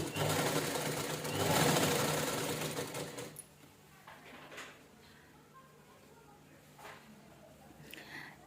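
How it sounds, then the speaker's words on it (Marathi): A sewing machine stitches a folded strip of fabric onto a blouse, running loud and close for about three seconds before stopping, leaving quieter room sounds and light handling noises. "पहिल्यांदा आपण शिलाई करून घेऊया बघा"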